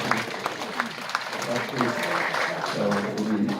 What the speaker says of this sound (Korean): 시장님한테 크게 박수 한번 주세요